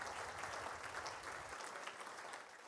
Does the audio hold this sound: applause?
yes